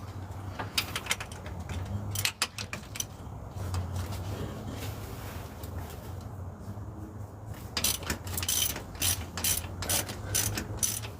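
A ratchet loosens cylinder head bolts on an engine during a teardown, giving rapid clicking bursts close up that come in several separate runs, with quiet gaps and faint background noise between them.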